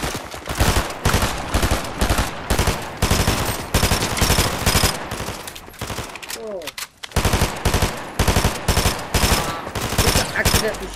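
Rapid automatic gunfire from the Fortnite video game rattles in dense, repeated bursts nearly throughout, broken by a brief lull near the middle, loud and close.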